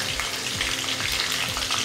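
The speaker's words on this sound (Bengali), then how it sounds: "এই যে পাঁচ ফোড়নটা ফোড়ন দিচ্ছি।" Panch phoron spices and chopped dried red chillies tempering in hot oil, crackling and sizzling close up in a dense continuous spatter with faint stirring, with no talking.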